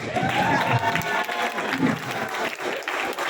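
Applause from an audience at a Malaysian election campaign speech, a steady wash of clapping with some crowd noise and a voice briefly audible over it.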